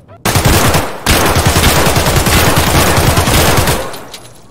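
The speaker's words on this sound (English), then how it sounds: "What is this gun shooting?" Rapid automatic gunfire in Escape from Tarkov, loud and close, a sustained burst of dense repeated shots running for several seconds before trailing off.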